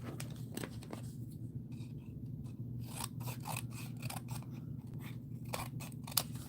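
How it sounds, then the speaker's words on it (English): Scissors trim paper by hand in a quiet crafting space, a close series of crisp snips and rasping cuts that come faster toward the end, with no talking. "I'm going to trim it just a little bit by hand."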